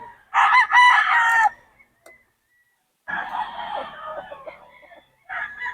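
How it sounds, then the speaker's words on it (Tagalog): Roosters crowing at a game farm, one loud full crow followed by a quieter, longer crow and the start of another, close by with gaps of near silence between. "Ang gaganda ng mga manok nito."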